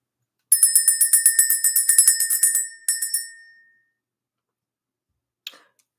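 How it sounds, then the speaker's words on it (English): A small ritual bell rings in a rapid run of bright, clear strikes, then makes a shorter second burst that fades, and a faint click follows near the end. It sounds close, with no voices. "Let's ring the bell."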